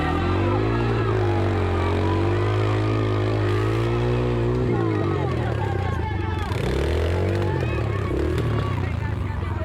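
An off-road motorcycle engine roars loudly and steadily at an off-road riding event, its pitch rising and falling as it revs, with voices shouting over it; the tire is clogged with mud.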